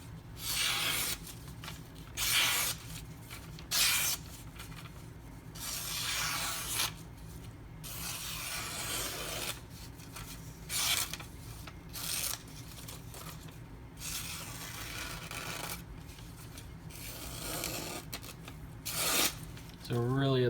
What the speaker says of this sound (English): Do a quick little cut test here.